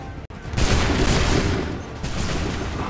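A loud musket volley fires in Assassin's Creed III, a sharp crack followed by a long rolling roar of massed gunfire and echoing booms.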